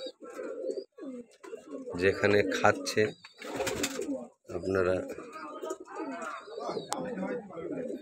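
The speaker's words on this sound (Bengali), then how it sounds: "ওইদিকে খাচ্ছে পাখিগুলো" Pigeons feeding on bread, rice, wheat and seeds coo and flutter close by, their calls mixed with a person talking over them.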